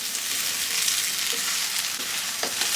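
Ketchup fried rice ingredients fry in a pan with a dense, continuous sizzle, close and crackling, with a few faint stirring clicks and no talk.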